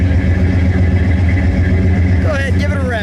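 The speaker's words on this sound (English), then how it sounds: "let me listen to it idle for a moment" A 1986 Chevrolet Monte Carlo SS with a Schenk 5-speed idles steadily close by, its low even rumble running throughout while someone talks over it near the end.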